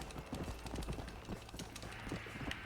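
Horse hooves clip-clop in a steady, quick rhythm in the video game Red Dead Redemption: Undead Nightmare, a continuous trotting patter at moderate volume with faint game ambience behind it.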